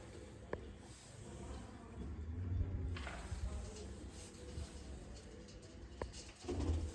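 Soft racing-pigeon coos rise and fall against a low outdoor hum, with faint voices and a couple of sharp clicks nearby.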